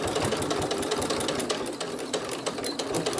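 A Janome sewing machine stitches fabric scraps for a keychain fob, its rapid mechanical needle chatter running loud and continuous with no talking.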